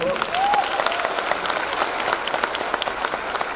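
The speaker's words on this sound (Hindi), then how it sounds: "हमारे सारे टाइटल होल्डर्स के लिए जबरदस्त तालियां प्लीज।" Audience applause for title holders at a Modicare business presentation in Patna, dense steady clapping from a crowd filling the clip, with a brief whistle-like tone near the start.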